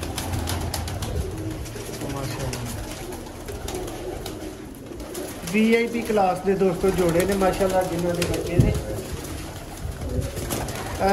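Salara teddy pigeons coo in low, throaty, repeated calls that grow busier in the second half, heard close under someone talking.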